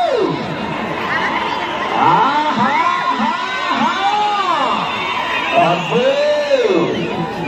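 A village fair crowd in Emmiganur, Kurnool district, yells and whoops loudly during a bull strength show, a dense, sustained din of overlapping shouting voices close by.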